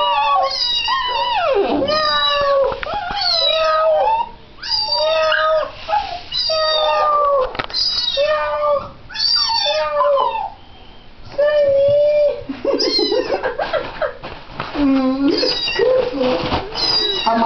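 Repeated cat meows, loud and close, come in a quick series of short cries with brief pauses between them, and faint background voices can be heard.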